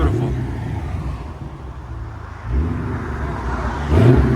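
A Dodge Challenger 392 Scat Pack with its 6.4L HEMI V8 rumbles in a deep, steady exhaust note that swells around the middle and again near the end, heard outdoors with some voice-like sound mixed in.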